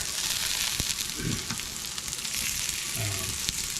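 Mushrooms sizzle and fry steadily in a Teflon pan, a constant close hiss with a few soft clicks and stirring scrapes, no voices.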